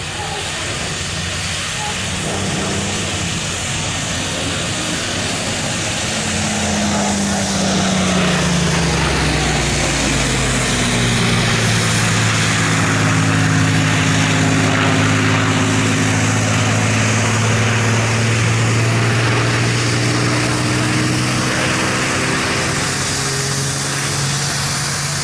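A WWII propeller warbird, a 1944-era Spitfire flown at the RAF Cosford Air Show, roars past with a loud rising and falling engine drone and clear pitch sweeps as it passes close overhead, sustained for much of the run.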